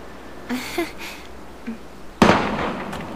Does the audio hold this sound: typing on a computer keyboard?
no